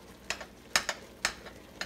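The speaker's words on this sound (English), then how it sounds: "stir that up real good" A spoon stirs a thickening chicken pot pie base in a pot, with soft scraping swishes repeating in a steady rhythm of about four strokes. The stirring sits close and fairly quiet, and no one speaks.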